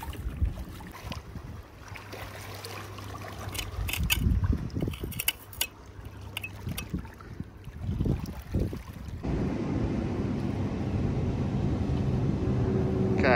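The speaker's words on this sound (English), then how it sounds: "Okay, boat noise." A boat passes on the River Thames, its engine a steady low rumble with wind buffeting the microphone and water lapping at the foreshore, growing fuller and louder toward the end.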